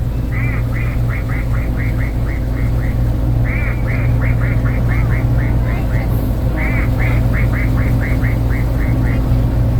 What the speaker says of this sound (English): We'll give them a quack.